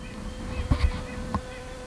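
A bee buzzes faintly nearby among squash plants on a farm, a soft droning hum with a couple of brief louder bumps against quiet outdoor background.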